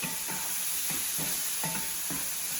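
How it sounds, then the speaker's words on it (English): Beef tongue meat seasoned with smoked paprika, cumin and chili powder sizzles steadily in a pan, with rhythmic scraping stirs about every half second, close and continuous. "We're just gonna try to brown this meat up a bit"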